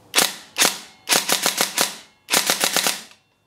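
A Tokyo Marui SOPMOD M4 airsoft gun fires two single shots and then two close, loud bursts of sharp cracks, each burst about five or six shots in quick succession, with silence between.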